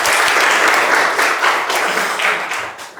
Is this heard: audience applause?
yes